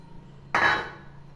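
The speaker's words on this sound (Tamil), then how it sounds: "இப்போ வந்துட்டு நான் பாஸ்தா ஆட் பண்ணிக்கிறேன்" Pasta tipped into a pan of creamy white sauce gives one quick clattering, scraping burst that fades within about half a second, heard alone and fairly close.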